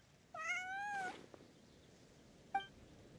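A cat meows in Genshin Impact, one long rising-falling call followed by a short, sharp second meow a moment later, close and clear with no voices.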